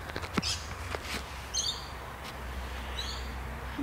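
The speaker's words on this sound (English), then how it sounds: "We've got birds, we've got wildlife." A few faint bird chirps come and go over quiet outdoor background noise in the Adelaide Botanic Gardens, with occasional soft rustles.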